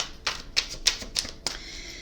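Tarot cards being shuffled by hand, five or six crisp riffling bursts in a steady rhythm, close and fairly quiet with no talking.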